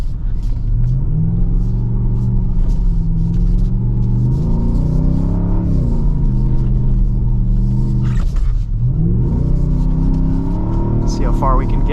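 A 2023 Ford F-150 Raptor R with its V8 engine drives through snow, a loud, steady low rumble that rises and falls with throttle changes and a brief dip near the end, with people talking over it throughout.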